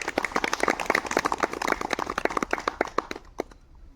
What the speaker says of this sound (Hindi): आइए हम सबके लिए जोरदार ताली बजाते हैं